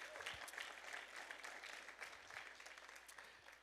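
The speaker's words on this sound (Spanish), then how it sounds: "dale un fuerte aplauso al Señor" Congregation applause during a church sermon, continuous broadband clapping from a crowd, fairly distant and moderate in level, steady throughout with no speech.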